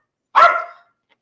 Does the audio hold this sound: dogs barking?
yes